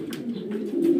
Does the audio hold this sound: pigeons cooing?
yes